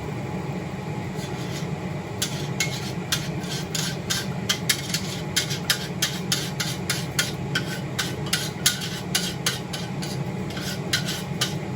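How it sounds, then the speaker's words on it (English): Cheese sauce is tipped into a pot of macaroni and stirred, giving a steady run of close, wet scraping and clinking strokes in an uneven rhythm over a soft background hum, with no talking. "Now we're going to tip in the cheese sauce."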